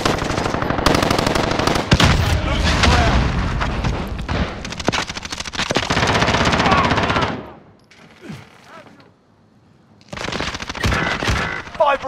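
Heavy automatic gunfire rattles in a video game, dense and loud for several seconds, drops to near silence with faint distant shots, then resumes in a fresh burst.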